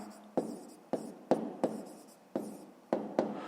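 Someone writes out a fifth-grade math answer by hand, most likely pen on paper. About seven sharp, close scratchy strokes land at an uneven pace, each trailing off quickly, and no one speaks.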